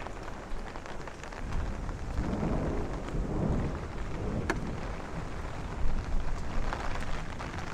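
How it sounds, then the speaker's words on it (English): Deep thunder rumbles low and continuously through a steady downpour on a night storm walk in Bay Ridge, Brooklyn, with no speech heard. "With some thunder."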